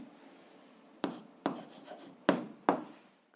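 A pen writes an answer by hand on paper for an algebra exercise, with a few distinct scratchy strokes and pauses between them, close and quiet.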